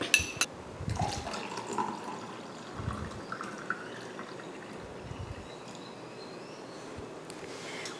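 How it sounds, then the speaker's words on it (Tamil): Watermelon juice with soaked sabja seeds is poured into a glass, making a soft, steady liquid trickle with faint splashes and clinks at the start, close and quiet. "ஒரு கிளாஸ் ஊற்றியாச்சு."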